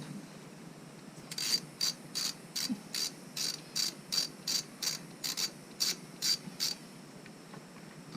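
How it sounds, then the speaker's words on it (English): A ratchet tightens a small 10mm bolt on a Yamaha Wolverine ATV while A-arm guards are fitted, giving a rapid run of about fifteen evenly spaced, crisp clicking bursts, close and clear over a quiet background. "is one little tiny 10mm bolt, which I'm tightening"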